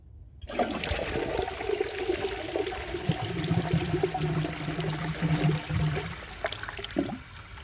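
A 2000 Universal-Rundle Atlas open-rim toilet flushing: after a brief silence, a loud rush of water swirls and drains for several seconds, then fades into a gurgling trickle.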